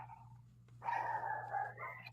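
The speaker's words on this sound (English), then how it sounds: "And the dog barks." A dog barks in a short burst, a moderately close, sustained yelping bark after a brief faint whine, over a steady low electrical hum in a radio studio setting.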